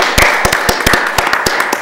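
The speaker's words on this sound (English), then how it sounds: "please give them a round of applause" Audience applause at the close of a Federalist Society voter ID panel, heard as scattered, sparse claps spread over the room, fairly loud and steady, with no talking.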